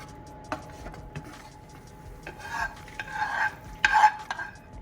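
A white sauce made with pesto, sea salt and black pepper simmers while a spoon stirs it, giving soft scraping strokes at an irregular pace and a louder burst of bubbling and scraping near the end.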